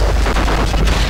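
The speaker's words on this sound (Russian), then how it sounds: "Сейчас будет взрыв." A single loud, booming explosion in GTA Vice City rumbles densely for about a second, with deep low-end weight that fills the whole moment.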